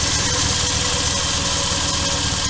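A 2-litre Equipe convertible's engine runs steadily at idle, a loud, even mechanical drone with a faint rhythmic knock, heard close up and alone with no voices.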